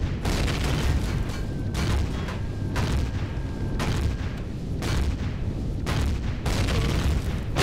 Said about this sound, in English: they're taking out my missile launchers